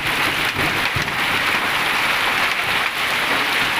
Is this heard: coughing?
no